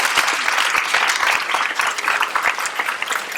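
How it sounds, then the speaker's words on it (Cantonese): A theatre audience at a university drama society night claps after a performance, dense and steady applause filling the room from start to finish. "大家再次俾掌聲"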